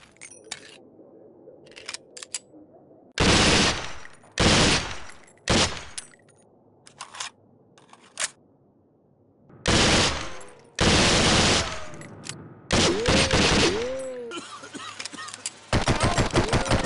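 Gunfire in the PC tactical shooter SWAT 4: loud bursts of automatic fire and single shots in irregular clusters, separated by quieter gaps with faint clicks and equipment handling.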